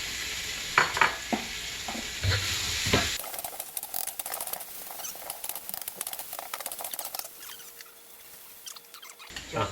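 Tofu stir-fried in a hot pan gives a busy crackling sizzle with scraping stirs, loud at first and then settling into a steady fry, with no voices.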